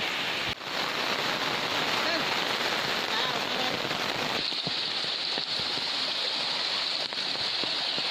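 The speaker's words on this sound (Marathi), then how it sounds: "आपल्या पऱ्याला जबरदस्त पाणी आलं दोन्ही बाजून पूर्ण तुडुंब भरतो" Loud, steady roar of a stream flooded to both banks by heavy rain, a dense broadband wash in full flow, with no voices.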